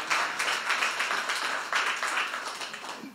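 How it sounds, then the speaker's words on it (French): A small audience claps steadily for a few seconds, a soft, even patter of applause with no voices. "Oh, vous pouvez l'applaudir."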